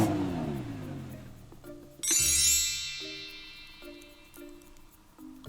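Car engine revving as a sound effect, a short rising vroom followed by bright tinkling chime tones that ring out and repeat softly, with no talk.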